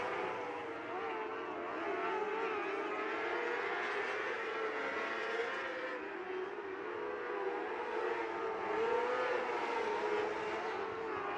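Micro sprint race cars in a POWRi Outlaw Micro Sprint League race at Port City Raceway wail with high, overlapping engine tones that rise and fall together in a continuous, loud howl.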